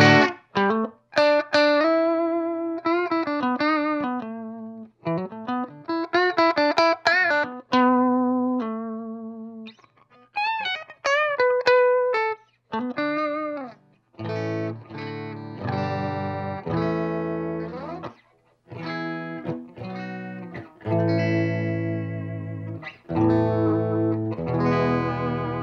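Electric guitar played through a Fender 5F1 Champ amp with a cleaner tone, picking melodic single-note runs and then strumming fuller chords, with sustained ringing notes, close and alone.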